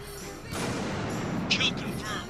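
Gunfire rattles in the Spec Ops: The Line shooter game, a dense burst of shots and muffled blasts filling the short moment, loud and close, with a voice speaking under the fire.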